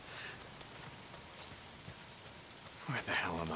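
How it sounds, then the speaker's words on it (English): Steady rain pattering on surfaces in the Days Gone game world, a constant broadband hiss throughout, with a voice briefly rising over it near the end. "Oh, damn rain."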